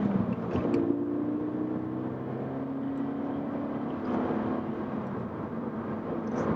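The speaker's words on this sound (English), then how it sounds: "But you guys can hear the car." A 2016 Scion FR-S sports car with about 200 horsepower drives along, its engine holding a steady, droning hum with road and wind noise underneath, fairly close and continuous.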